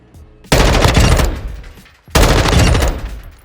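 An M4 rifle fires in Call of Duty DMZ in two loud, sustained automatic bursts, each about a second and a half long with a short pause between, sounding close and punchy.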